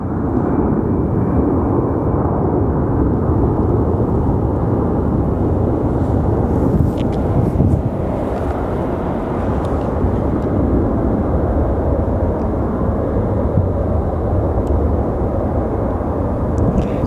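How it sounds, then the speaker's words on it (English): Air France airliner bound for Charles de Gaulle at Sky Harbor Airport, a loud, steady, rumbling jet roar that holds without a break for the whole stretch. "That is our Air France going to Charles de Gaulle Airport"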